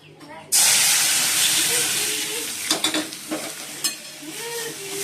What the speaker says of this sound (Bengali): এই জন্য ডালটা ফোড়ন দিয়ে দিচ্ছি, এই জিরে, তেজপাতা আর শুকনো লঙ্কা।